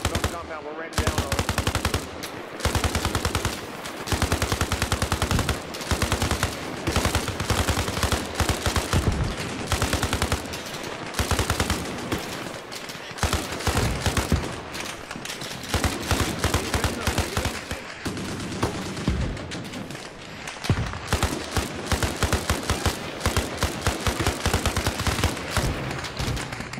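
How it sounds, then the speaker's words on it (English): Rapid automatic gunfire in the military video game Arma Reforger, loud, sustained bursts packed nearly continuously across the whole stretch, with brief gaps and shouted voices now and then beneath the shooting. "Shooting at friendlies on this building!"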